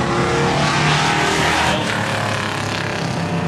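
A race car engine fires up and revs hard at Seekonk Speedway during a NASCAR opening-day race, a loud, steady roar of engine noise up close with faint crowd and track sound behind it.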